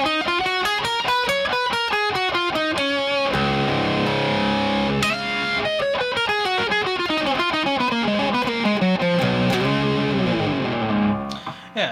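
Distorted electric guitar with effects running up and down a mixolydian scale, fast continuous melodic runs and bends, loud and close with no voices.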